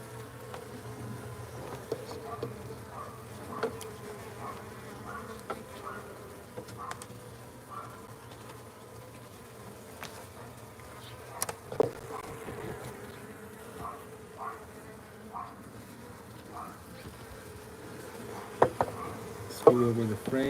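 Honeybees in an open hive being cleaned of wax moth give off a calm, low, steady hum, with scattered soft knocks and clicks from frames being handled nearby.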